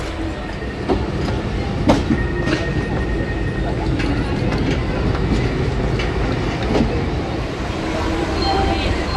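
Howrah Barmer Express passenger train running on rails, a steady loud rumble with rhythmic clickety-clack of wheels over rail joints and occasional brief metallic squeals, heard from inside the moving coach.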